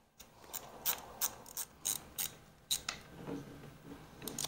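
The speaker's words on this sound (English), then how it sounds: "I'm gonna go ahead and put the screws back in" Screws being driven back into a Terre Power rotary scissor, a quiet series of sharp ratcheting clicks in irregular rhythm, close by with no talking.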